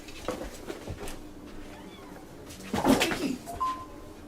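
Indoor cats meowing close by, a few short mews followed by a louder drawn-out cry near the end against a quiet room.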